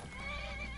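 A horse in Skyrim neighs in one steady, sustained whinny with clear tonal harmonics, moderately loud and close, with no talk over it.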